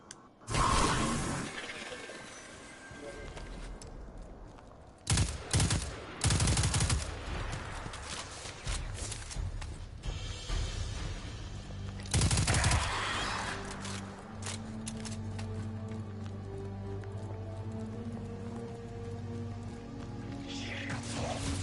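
Submachine gun fire in the video game Destiny 2, bursts of rapid mechanical shots and clattering, loud and close, broken by pauses and followed by a lower steady drone.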